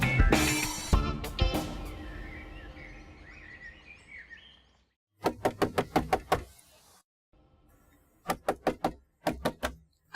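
Hard, rapid knocking and banging on a door in a domestic drama scene, coming in fast bursts of several blows separated by pauses, loud and close after a stretch of quieter indoor noise.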